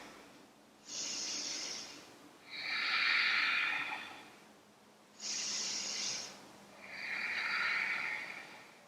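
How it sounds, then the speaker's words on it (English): During a yoga twist, slow deep breaths come in two full cycles, each a hissing inhale followed by a longer, breathier exhale. They are close and clear against quiet surroundings, with no talking. "3 rounds of breath here."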